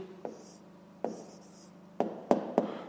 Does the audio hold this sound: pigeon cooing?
no